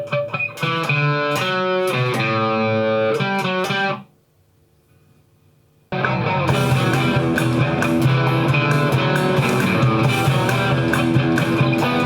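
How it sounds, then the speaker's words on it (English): An electric guitar plays a harmony line in thirds to a main riff: a quick run of picked notes, a two-second silence, then denser, continuous chiming playing at full volume. "the harmony to the main riff should sound like this"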